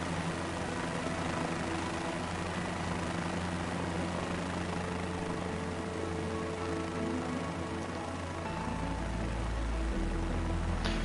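Helicopter flying in Microsoft Flight Simulator 2024, a steady loud rotor and engine drone with constant whine, deepening to a heavier low throb near the end, with no talking.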